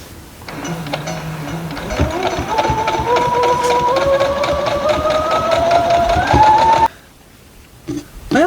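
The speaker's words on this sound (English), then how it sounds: "we take this block and sew it to this" A sewing machine stitches quilt block pieces together, its motor whirring steadily and rising slightly in pitch for several seconds before stopping abruptly, followed by a few faint handling clicks.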